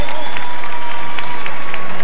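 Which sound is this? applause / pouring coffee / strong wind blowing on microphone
applause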